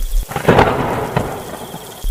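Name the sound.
thunder and heavy rain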